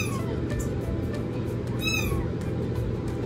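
A hungry foster kitten meows repeatedly, with a clear, fairly close cry near the middle of the clip and fainter calls around it, over a steady low background hum.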